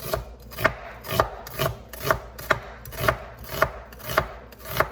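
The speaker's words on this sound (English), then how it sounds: "keeping my fingers right up against the knife so we have these really nice thin onion cuts" A knife slices thin cuts through an onion on a cutting board in a steady rhythm of about nine crisp, close chops, each a short crunch ending in a tap on the board.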